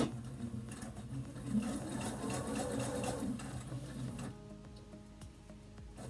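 A sewing machine runs a straight stitch with a quick, steady mechanical whirr and ticking, fairly faint and close. The needle action stops partway through, leaving only light clicks.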